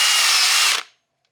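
A small drill bit boring into a scale RC truck body for light holes gives a steady, loud whine that cuts off abruptly and leaves silence.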